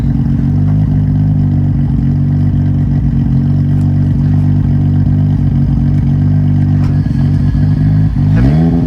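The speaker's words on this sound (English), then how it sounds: "We're gonna give it a couple of revs." A Nissan Skyline R34 GT-R V-spec, turbocharged, idles loudly close by with a steady low engine drone, then a revving rise builds near the end, no talking over it.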